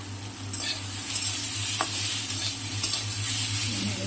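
A pan of taro stolon and prawn curry, cooked with jackfruit seeds, is stirred over a steady low hum, with soft scraping strokes and a faint sizzle underneath; no one speaks.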